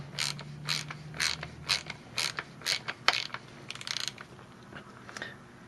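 A ratchet tightening the nut on the damper side of a Fox 36 mountain bike fork, a series of about a dozen sharp, close clicking strokes in uneven rhythm, loud against a quiet room.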